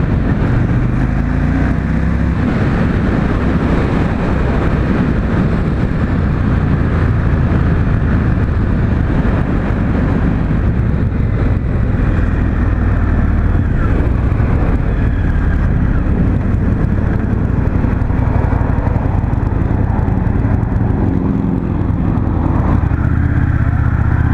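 An Indian FTR 1200 motorcycle accelerates hard through the gears, a steady loud engine roar with heavy wind rush over the microphone throughout, no talking.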